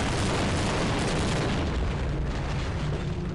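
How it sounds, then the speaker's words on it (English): A loud, dense blast roars and rumbles for several seconds, a sustained explosion of a crane and helicopter in the video game They Hunger, with broad crackling noise that slowly thins out. "Crane plus helicopter equals explosion and death."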